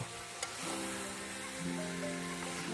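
Meat sizzling and frying in a pan over a campfire at a village campsite in Barisal, a steady close crackle with occasional stirring and no talk.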